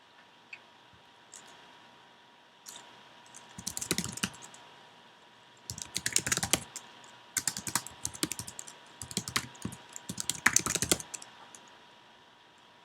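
Keyboard typing during coding of a simple REST API, in bursts of rapid clicky keystrokes separated by short pauses, fairly close and moderately quiet, with no talking.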